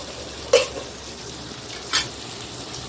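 Chicken fries in a pan as a little water is added, with two sharp sizzling bursts over a low, steady frying hiss.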